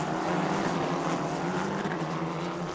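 Formula 4 single-seaters with 1.4-litre Abarth engines racing at the Red Bull Ring, heard as a steady, fairly faint engine drone with a broad buzzing tone that stays continuous throughout.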